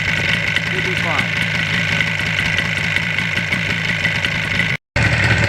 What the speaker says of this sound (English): It runs without the choke on. Idle's about right.